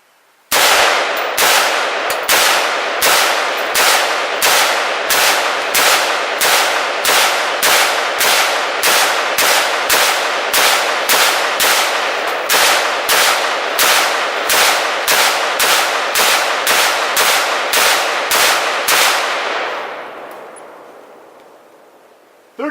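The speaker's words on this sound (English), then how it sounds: "green tip NATO armor piercing 30 rounds" A rifle firing a 30-round magazine of green tip NATO armor-piercing ammunition at a ballistic barrier, about thirty loud, evenly spaced sharp shots in steady rhythm, each ringing out, ending with a fading echo.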